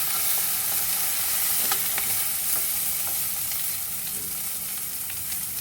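Garlic and ginger fry in a hot pan with a steady, dense sizzle, and a few sharper pops and scrapes of stirring come through, loud and close throughout.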